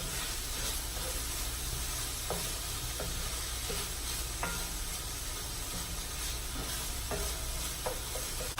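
Diced vegetables sweat down in a pan for Asian chicken lettuce wraps, a steady close sizzle with occasional scraping and stirring taps throughout, no voices.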